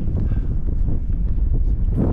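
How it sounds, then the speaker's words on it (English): Strong wind buffets the microphone on an exposed hilltop in a constant low roar, loud and rumbling throughout with no talking. "we've come off the top because it's unbelievably too windy"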